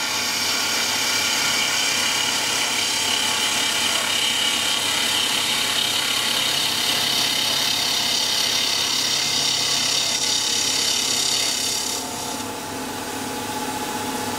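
A skew chisel takes a slow finishing cut along a wooden sword part spinning on a woodturning lathe, a steady continuous scraping hiss that holds for most of the stretch before dropping slightly near the end, with no voices.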